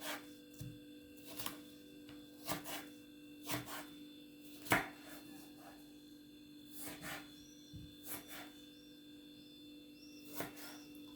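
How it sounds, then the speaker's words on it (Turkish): Sharp knife chops strike a cutting board at an irregular pace while vegetables are chopped for mücver, crisp taps close by against a quiet background hum. "İşte bu şekilde doğrayacağız."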